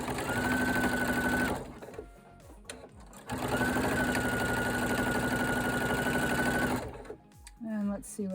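A PFAFF sewing machine stitches binding through a double fold quilt binder in two steady whirring runs, starting and stopping, with someone talking quietly in the pauses between.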